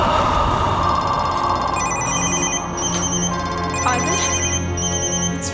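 A telephone rings through a loudspeaker, its repeated electronic ringtone tones sounding over a steady background hum, loud and close with no talking.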